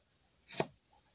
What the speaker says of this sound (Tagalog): Pinupinuhin natin ng konti yung luya